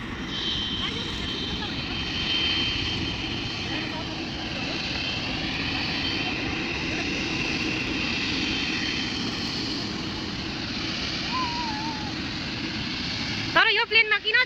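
Steady drone of a small airplane engine, loud and continuous throughout from inside the cabin, with muffled voices beneath it and a brief clatter near the end.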